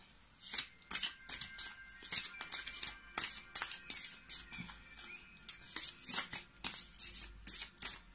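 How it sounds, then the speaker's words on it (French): Tarot cards are shuffled by hand in quick repeated riffling bursts, close and fairly soft, one after another with no talk. "Si les cartes veulent bien se discipliner et que je puisse obtenir juste une carte."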